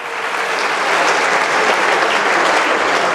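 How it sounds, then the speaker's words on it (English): A dense, loud burst of clapping from a large dinner crowd greets Brampton Mayor Linda Jeffrey at an iftar event, continuous and close with no talking. "Let's give her a round of applause."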